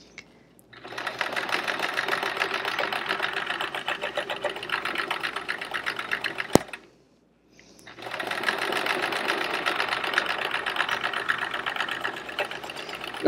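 A sewing machine stitching free-motion quilted feathers on a chevron quilt runs loud and close in a long continuous burst, stops briefly with a small click, then starts up again.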